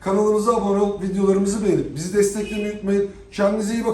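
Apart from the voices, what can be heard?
No everyday noise stands out behind the speech.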